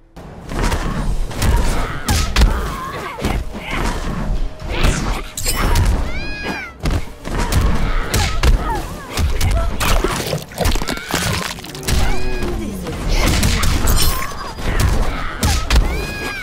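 Fighting blows in the video game Mortal Kombat X: repeated heavy thuds and punchy impacts in rapid bursts, with brief grunting voices and game effects, loud and close throughout.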